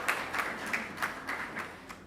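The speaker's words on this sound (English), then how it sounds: "we can all give him a round of applause" Summit audience applauding a presenter: a soft, moderately distant patter of many hands in loose, steady rhythm, fairly faint and without talk over it.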